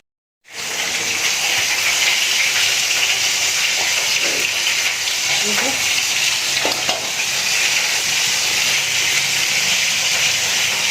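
Steady, loud steam hiss from rice cooking on a home stove, starting abruptly and continuing unbroken with faint clinks in the background.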